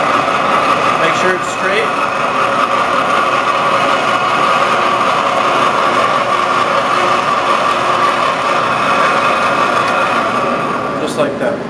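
A pasta machine's cutter runs steadily through a homemade egg dough sheet, a loud, constant mechanical whir and hum that holds without pause, with someone speaking briefly over it.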